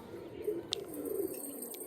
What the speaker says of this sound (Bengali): এখন পায়রা উড়ছে, তোমাদেরকে দেখাই।